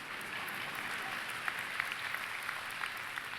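A crowd applauds during a commencement address by Stacey Abrams for American University's School of Public Affairs, a dense, steady wash of clapping with a few sharper claps popping out, sustained and fairly close throughout.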